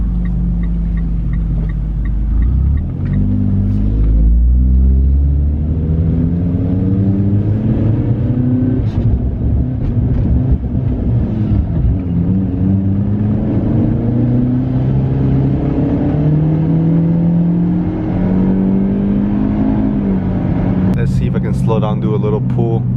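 A turbocharged Lancer accelerates hard under full throttle, its pitch climbing repeatedly through gear changes, loud and close inside the cabin, with steady road and engine roar throughout.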